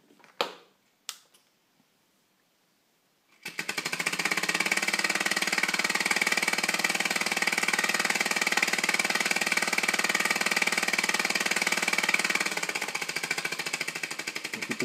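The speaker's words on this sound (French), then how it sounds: "Donc on va commencer tout de suite par le moteur monocylindre avec une petite démonstration." A couple of sharp clicks, then a small 3D-printed single-cylinder compressed air engine starts up and runs with a fast, steady chuffing rhythm, close and even, easing slightly at the end.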